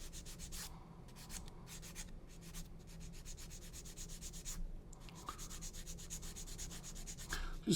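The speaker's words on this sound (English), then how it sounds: "Just finish them off with a sanding sponge." Plastic model aircraft parts for a 1/32 Tempest Mk V kit are rubbed with strips of Tamiya sanding sponge, producing soft, close, rhythmic scratching strokes in quick bursts with short pauses.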